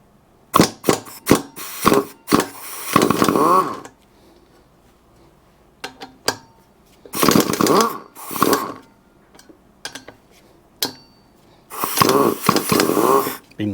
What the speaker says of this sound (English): I'm going to take my air gun, make sure I'm at the lowest setting, the low setting